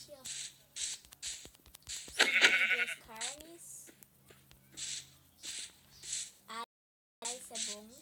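Short, high sheep bleats from Minecraft sound repeatedly and fairly quietly, with a brief burst of louder bleating in the middle and a short moment of silence near the end.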